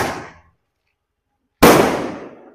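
Two sharp Diwali firecracker bangs, the second louder and closer, each followed by a ringing decay, separated by a second of silence.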